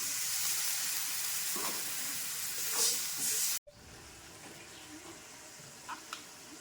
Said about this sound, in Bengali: পানি দিয়ে মশলাটা কষায় নিই